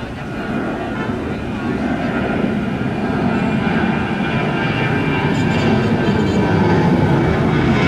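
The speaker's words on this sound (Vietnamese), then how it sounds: "Chiếc máy bay đang cất cánh đây." Ruili Airlines Boeing 737-700 taking off from Tan Son Nhat airport, heard as a heavy jet-engine roar with deep rumble that swells gradually and holds loud and close throughout.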